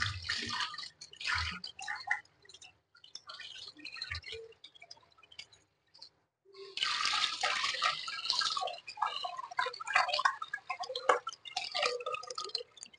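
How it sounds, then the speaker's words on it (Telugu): Toor dal (pigeon pea lentils) is rinsed in water in a kitchen, with intermittent swishing, pouring and dripping sounds broken by quiet gaps, close and fairly faint. "కందిపప్పుని వాష్ చేసేసుకుందాం రండి."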